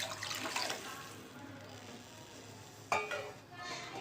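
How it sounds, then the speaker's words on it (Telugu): Faint splashing of water poured into a pot of tomato pepper rasam, a brief pour at the start and another short splash near the end, with quiet background hiss. "సరిపడ నీళ్ళు కూడా వేసుకుందాము"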